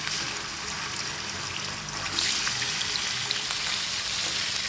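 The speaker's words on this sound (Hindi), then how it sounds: "ऑयल में अच्छी तरह से हमने चिकन को फ्राई करना है और फ्लेम जो है वो मैंने फुल कर दिया।" Chicken frying in oil on a full high flame for Peshawari charsi karahi, a loud steady close sizzle that swells slightly partway through.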